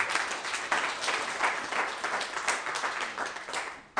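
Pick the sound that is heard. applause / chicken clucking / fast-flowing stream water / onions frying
applause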